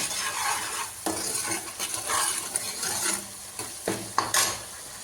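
Spice masala fries in oil for a matar paneer curry. A utensil repeatedly stirs and scrapes the pan over a continuous close sizzle, with occasional sharper metallic knocks and no voices.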